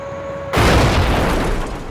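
A hand grenade detonates in one sudden loud blast after a quiet moment, and its broad roaring boom sustains and slowly decays over the following second and a half.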